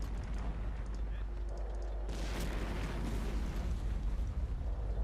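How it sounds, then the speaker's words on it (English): Gunfire and explosions in the World War II strategy game Sudden Strike 2, a dense rumbling barrage of booms and bursts with a sharp crack midway, steady and fairly loud. "I'm just gonna open fire on it"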